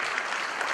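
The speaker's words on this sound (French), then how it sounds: "Nous allons profiter de l'occasion pour vous demander encore d'applaudir nos amis du Burkina Faso" A short, dense burst of audience applause at an anniversary celebration in Abidjan, with steady crowd clapping filling the room and no gaps or pauses.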